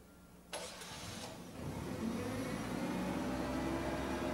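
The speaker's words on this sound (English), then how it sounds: "keep the engine running" A propane-fuelled forklift engine starts with a short clank, then runs at a quiet, steady idle that builds a little and keeps going, heard from a moderate distance.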